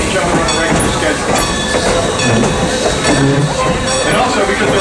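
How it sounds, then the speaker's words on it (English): A steam locomotive hauls a passenger train along the Strasburg Railroad. Rolling wheels rumble and clatter steadily on the rails, loud and close, and the noise runs continuously throughout. "Two passenger trains pulled by steam locomotives don't pass each other on a regular schedule."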